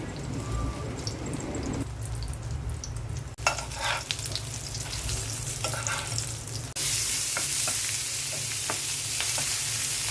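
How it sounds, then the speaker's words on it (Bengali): Leftover egg fries in a pan with a steady, crackling sizzle throughout, a few stirring scrapes partway through, and a louder, hissier burst of frying near the end. "চপ ভাজার পর ডিম বেঁচে ছিল, আমি ভেজে নিচ্ছি।"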